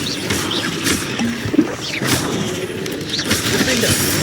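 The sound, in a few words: Confringo fire spell cast in Hogwarts Legacy video game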